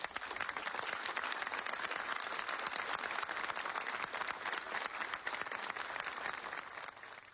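Sustained applause from a crowd at a funeral tribute, many hands clapping steadily and fairly evenly for several seconds before tapering slightly at the end.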